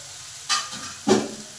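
A ground paste of ginger, garlic, onion and tomato is stirred into spices frying in a pan, giving two short bursts of loud sizzling and scraping over a low background hiss.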